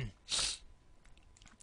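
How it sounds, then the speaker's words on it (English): A single short sneeze, fairly close, followed by faint breathy sounds and a quiet sniff. "Hang on, I gotta sneeze."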